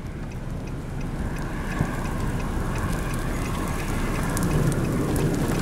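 Steady rain pours down in Rozel, Kansas during a tornado chase, a dense constant hiss that holds evenly throughout with no talk over it.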